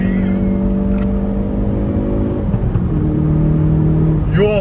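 A Hyundai i30 N accelerates hard, its engine note climbing steadily through the revs in a loud, close, sustained drone that drops and settles briefly before rising again near the end.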